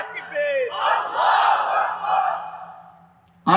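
A large crowd shouts back a takbir chant in unison, a swelling roar that rises, holds and fades before a loud voice cuts in at the end.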